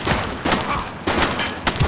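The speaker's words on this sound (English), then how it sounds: "She's shooting!" Gunfire in a video game police shootout, several heavy bursts of shots in quick succession, loud and close, filling the short moment.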